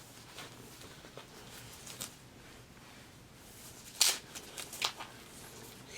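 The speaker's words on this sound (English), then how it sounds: "So I think I will just cut them here on the sides." Scissors cutting through the sides of ski pants, a few soft, close snips and fabric rustles over quiet background, with a couple of sharper crunches near the middle.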